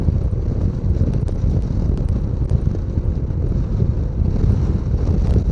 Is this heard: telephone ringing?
no